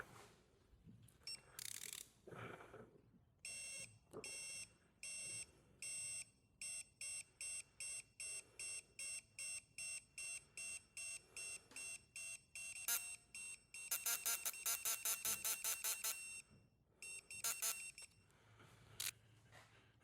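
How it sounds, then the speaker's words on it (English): Electronic torque wrench on a Chevrolet LS engine build for a 2000 truck, beeping in a long run of short, evenly spaced high tones, then a faster cluster of beeps and a few scattered ones; close and clear with no talk. "This torque wrench, it beeps a lot, but it vibrates once you hit your torque spec."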